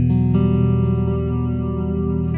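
Electric guitar played through an amp with a wet-dry effects blend from an Empress unit, sustained chords thick with chorus, echo and reverb wash, loud and steady throughout with no talking.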